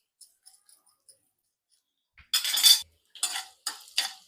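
Asafoetida sautéing in a pan for tomato chutney: after a few faint ticks, bursts of stirring and sizzling come in short, close scraping strokes separated by brief pauses.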